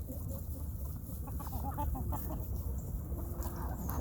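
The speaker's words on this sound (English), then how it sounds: "I got a name for my new little rooster." Chickens and a young rooster cluck and murmur continuously nearby, soft overlapping calls over a low background rumble.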